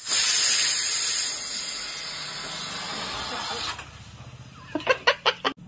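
A faulty pressure cooker lets out a loud, steady hissing whistle of steam for several seconds, then cuts off, followed by a few sharp clucking bursts.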